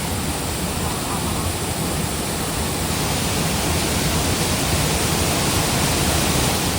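A waterfall in the dense green woods near Malgund pours down in a steady, loud, unbroken roar of falling water, close by and filling everything without pause.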